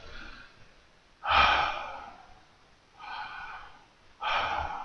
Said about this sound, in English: taking deep breaths and listen to the breath